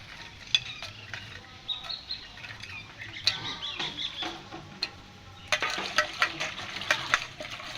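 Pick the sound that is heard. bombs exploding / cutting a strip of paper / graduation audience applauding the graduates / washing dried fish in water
washing dried fish in water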